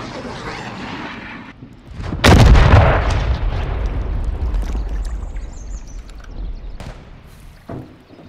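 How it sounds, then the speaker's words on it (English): A cruise missile strike in the Call of Duty video game lands as a sudden loud, deep boom that rolls into a long rumbling roar and slowly fades, with a smaller thump near the end. "Friendly cruise missile deployed."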